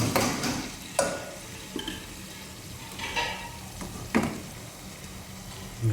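Onions fry in a pan with a continuous sizzle, broken by a few sharp stirring clacks of a utensil against the pan and soft scraping.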